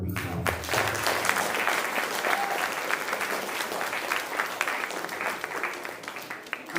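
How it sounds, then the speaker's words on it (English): A graduation audience at a parish CCD ceremony claps for the catechism teachers: dense, steady applause from a large crowd that holds strong and even throughout, easing only slightly near the end. "Let's give them a big clap."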